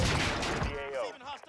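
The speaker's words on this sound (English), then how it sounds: "Receiving hostile fire." Gunfire in the battle royale game Call of Duty Warzone, a dense burst of rapid shots filling the opening second before fading into a radio-style voice line.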